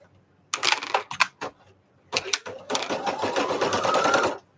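An embroidery machine stitches a design in rapid mechanical bursts, starting and stopping, then running steadily before halting, close and fairly loud.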